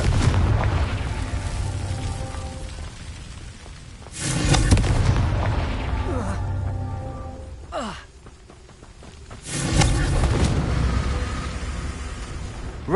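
Confringo fire spell explosions in Hogwarts Legacy: a few heavy booming bursts, spaced apart, rising out of a steady rumbling game backdrop.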